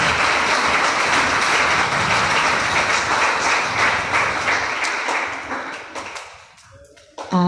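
A church congregation at a Christian satsang gives a loud, sustained burst of applause, dense clapping filling the room for several seconds before fading out near the end.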